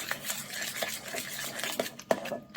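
A tablespoon vigorously stirring gnocchi dough in a bowl, with quick scraping and knocking strokes and sharp clinks against the side, close and moderately loud.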